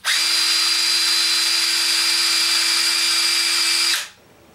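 A Snap-on CT761 3/8-inch 14.4V MicroLithium cordless impact wrench runs in full reverse with a loud, steady high-pitched whine for about four seconds, then stops abruptly.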